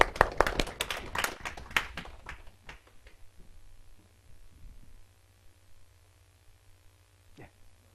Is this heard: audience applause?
yes